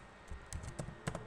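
Keystrokes on a computer keyboard while laying out a web page design, a handful of light, irregular clicks close to the mic over a quiet room hum.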